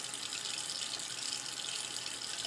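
Steady tap water runs continuously into a sink while makeup brushes are rinsed, a constant close hiss with no talking.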